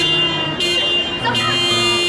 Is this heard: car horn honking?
yes